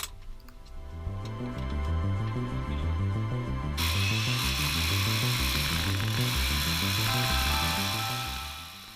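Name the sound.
power drill making holes in cave rock for charges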